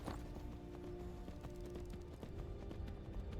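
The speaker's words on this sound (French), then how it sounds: "Attends, il y a un cheval, là." Faint, steady clip-clop of horse hooves in the Skyrim game, an even rhythmic patter at a distance under low ambient game sound.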